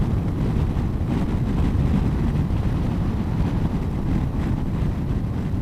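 Strong wind roars steadily across the microphone while riding a Honda ST1100 motorcycle, a loud, constant low buffeting rumble that fills the whole stretch with no pauses.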